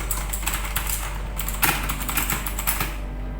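Keys clatter on a noisy computer keyboard, a close, continuous run of crisp clicks with uneven rhythm and a few sharper, louder strokes over a steady low hum.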